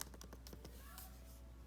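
Quick keystrokes on a computer keyboard entering a password, a short burst of close, crisp taps in the first half, then quieter fainter clicks.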